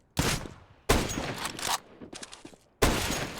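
Pistol gunfire on the Dust2 map in CS:GO comes as three separate sharp, loud reports. Each one cracks suddenly and then decays, with quieter clatter filling the gaps between shots.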